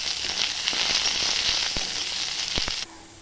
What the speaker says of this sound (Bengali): এরপর দিয়ে দিচ্ছি পেঁয়াজ।